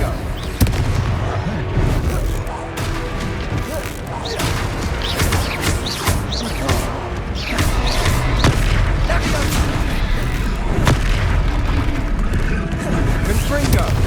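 Confringo blasting spells explode in the Hogwarts Legacy video game, a dense run of booming blasts and crashes across a loud combat scene, with voices shouting over the action.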